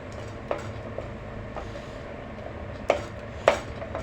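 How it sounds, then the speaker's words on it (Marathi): Cooked bottle gourd mashed with a masher in a pan over a high flame for a sweet dish, heard as dull repeated thuds and metallic clinks, a couple of louder knocks standing out over low background hum, close by with no talking. "आता आपण हे दुधी भोपळा छान शिजलेला तर मॅश करून घेणार आहोत"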